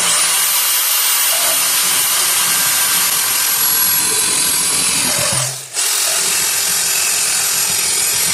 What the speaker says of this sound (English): we're going to cut a little chunk of angle iron